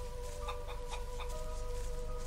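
Chickens cluck in the video game Risen, a series of short clucks over a steady ambient game drone, fairly close and moderately loud.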